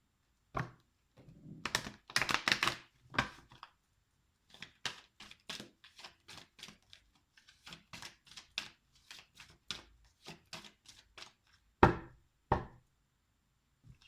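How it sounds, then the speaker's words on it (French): A deck of cards is shuffled in a quick riffling burst, followed by a long run of crisp, evenly spaced taps and clicks as the cards are handled and set down, close and fairly quiet with no talking. "Je les mélange bien puisque je m'en suis servi avant"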